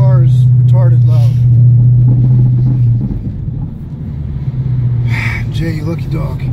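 Ford Mustang S197 with a 5.0 Coyote V8 revving hard through the gears, heard from inside as a loud droning rumble that climbs and drops between shifts, with voices talking over it.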